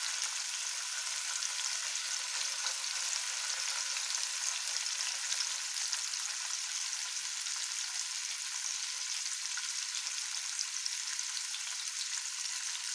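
Sardines fry in a small amount of oil in a pan, giving a steady, even sizzle with fine crackling that holds constant with no talking.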